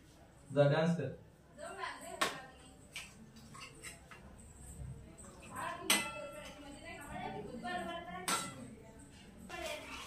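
Misal is served into a dish with scattered clinks and taps of spoon and crockery, light and close, under intermittent talk.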